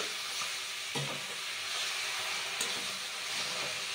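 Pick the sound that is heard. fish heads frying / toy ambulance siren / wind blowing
fish heads frying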